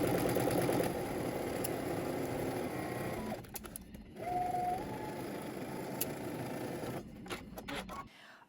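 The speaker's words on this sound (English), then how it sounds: "Let's head to the sewing machine. We're gonna stitch using 5/8 of an inch seam allowance" A home sewing machine running a seam with a 5/8 inch allowance, a steady mechanical whir that pauses and restarts with small shifts in pitch, fairly close and alone.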